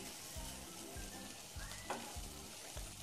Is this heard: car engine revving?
no